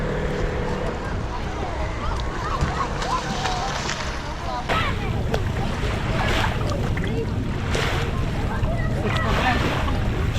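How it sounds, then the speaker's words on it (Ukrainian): Waves wash steadily onto the beach at Dobrota, Montenegro, a continuous surf rush with wind buffeting the microphone and brief splashes rising through it, close and fairly loud, with no talk over it. "А ось і пляж у Доброті."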